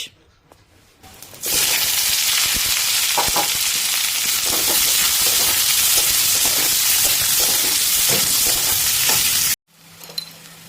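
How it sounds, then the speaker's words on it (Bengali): Cumin seeds, bay leaves and dried red chillies drop into hot oil and burst into a loud, dense sizzle that holds steady for several seconds, crackling close by, before cutting off abruptly. "তেল গরম করেই আমরা দিয়ে দিচ্ছি জিরে তেজপাতা শুকনো লঙ্কা"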